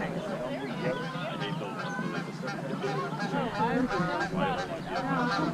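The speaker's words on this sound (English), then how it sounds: "Geese." Geese honk repeatedly in a noisy cluster at the Fort Wayne Children's Zoo, Indiana, with people chattering in the background throughout.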